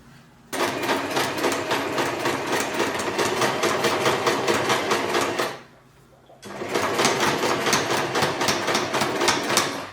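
An electric sewing machine runs fast, stitching a ready-to-wear saree, its rapid even needle clatter sounding close and loud in two long bursts separated by a brief pause.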